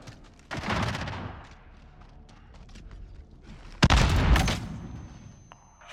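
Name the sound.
cruise missile strike in Call of Duty: Modern Warfare video game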